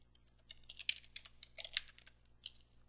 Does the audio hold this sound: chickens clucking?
no